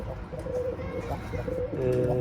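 Pigeons in a balcony coop give low, soft cooing calls, several overlapping murmurs repeating close by throughout, with a quiet voice faintly in the background.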